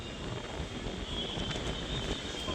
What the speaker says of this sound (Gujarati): વરસાદ તો નહીં આવ્યો પણ પવન આવ્યો